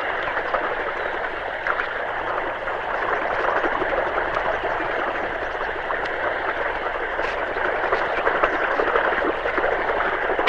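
Water from a pump set runs steadily down an irrigation channel in a garden plot, a continuous broad rushing and gurgling wash that holds at an even level throughout with no talk.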